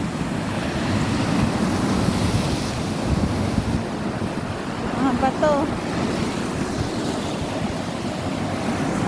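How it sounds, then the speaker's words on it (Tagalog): Strong ocean waves surge and wash continuously onto a Croatian beach, heard up close under heavy wind buffeting on the microphone, with a voice speaking briefly over the surf. "Ang lakas ng alon."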